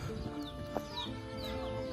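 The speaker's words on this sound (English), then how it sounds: "These chickens are loving it." Chickens at a rural house in Buriram, Thailand cluck softly and repeatedly nearby, with short squawks over a faint outdoor background.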